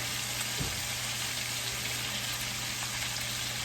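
Lamb chops fry in a pan with a soft, steady sizzle that stays quiet and even throughout, close by and with no voices.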